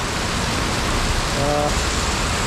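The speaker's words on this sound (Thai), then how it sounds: "บรรยากาศอยู่ที่เวียงจันทร์ในนี้ฝนตกเนาะ" Steady, dense hiss of rain falling without pause at night on flooded streets in Vientiane, Laos, loud and close, with a faint brief tone in the middle.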